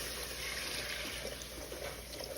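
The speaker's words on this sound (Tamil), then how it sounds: "இப்போ இந்த கறி வேக வச்ச தண்ணியை ஊற்றிக்கலாம்." Mutton cooking water poured into a pan while making mutton kuzhambu, a steady low trickling liquid sound, fairly faint and continuous with no talking.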